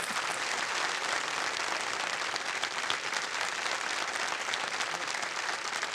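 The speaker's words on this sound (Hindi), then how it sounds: "एक बार तालियां बज जाएं के लिए।" A studio audience at a televised quiz show claps steadily and loudly for six seconds, a dense even wash of applause with no talk over it.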